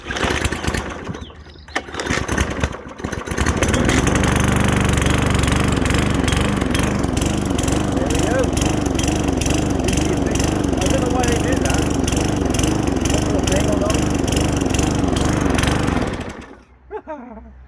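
A Qualcast lawn mower engine coughs briefly, then starts and runs loud and steady nearby for about twelve seconds before cutting out abruptly.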